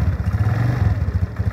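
A Keeway Vieste 175 scooter's engine runs close by with a steady, chugging low throb and slight mechanical clatter, loud and without any talk.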